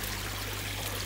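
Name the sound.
pond air pump bubbling water in koi pond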